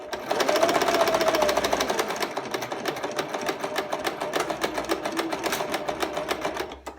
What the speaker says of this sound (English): And we put that back stitch to start and that back stitch to finish.